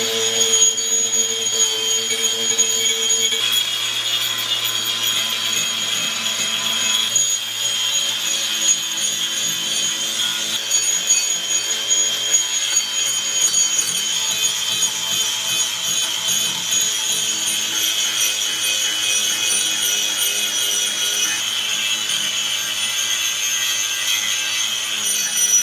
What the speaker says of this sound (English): I returned to the carving discs for final shaping after using the chisel to remove the majority of the interior